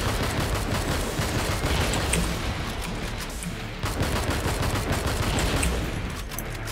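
Rapid gunfire rattles continuously through the racing first-person shooter BIOS, dense and loud with a few sharper cracks, no voices.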